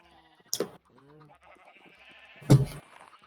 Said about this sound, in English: My headphones are full of sheep and chickens.